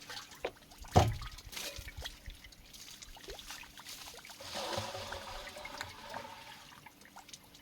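Waste decomposer mother culture is poured out in a farm setting, a soft trickling and splashing of liquid with a sharp knock near the start, continuing unevenly at low level.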